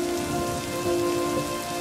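Steady rain falls on a surface, a dense, even hiss with a continuous drone and no voices, loud and close throughout.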